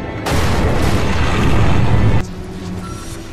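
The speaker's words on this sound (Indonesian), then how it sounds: "mengakibatkan laboratorium itu pun meledak" A laboratory blows up in a three-headed shark film, a loud, dense explosive roar that erupts suddenly, holds for about two seconds, then cuts off into a quieter rumbling aftermath.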